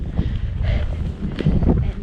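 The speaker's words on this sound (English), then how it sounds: "awfully windy up here" Strong wind on a New Zealand mountain pass buffets the microphone in a low, gusty rumble throughout, under someone speaking.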